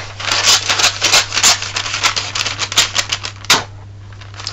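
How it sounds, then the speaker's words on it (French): Rapid, uneven snipping of scissors cutting crisp wrapping paper, close by, in quick bursts with short pauses, over a steady low electrical hum. "Les ciseaux vont faire l'affaire."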